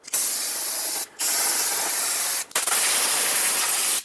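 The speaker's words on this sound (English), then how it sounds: "spray it down with some brake parts cleaner to rinse all of the debris and the dust off" Two long, loud hissing bursts from an aerosol can of brake parts cleaner sprayed onto a Toyota Highlander's front brakes, followed by a shorter third burst, each separated by a brief pause.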